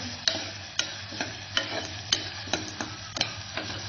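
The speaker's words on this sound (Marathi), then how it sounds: "हे परतत असतानाच यात मीठ थोडं, म्हणजे कांदा आणि टोमॅटो लवकर परतले जातील." Onion and tomato sautéing in a pan for chicken rassa, with a soft constant sizzle under sharp spatula scrapes that come roughly twice a second.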